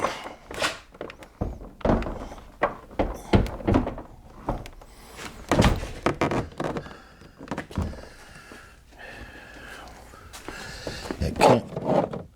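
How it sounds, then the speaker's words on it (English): A Chevy Silverado door being lifted and hung back onto its hinge pins, with a series of sharp metallic thunks and knocks spread irregularly throughout, close and fairly loud, amid handling noise. "try and hang this door back up"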